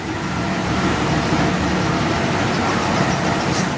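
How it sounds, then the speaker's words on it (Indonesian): Locomotive 1359 CN hauls the Tegal Bahari economy-class train with a loud, steady rumble of running rail wheels and engine, a continuous close-up roar with no voices. "jadi lokomotif dinas kita hari ini adalah 1359 CN"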